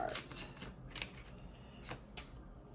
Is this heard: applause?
no